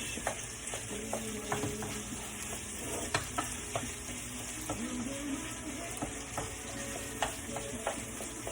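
Sausage and shallot frying in a pan, a soft steady sizzle with occasional clicks of a utensil stirring and breaking up the meat, fairly quiet and close.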